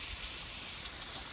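Aerosol cleaner is sprayed into a wheel bearing on a 1994 Ford F53, producing a quiet, steady hiss that runs unbroken for just over a second with no talk.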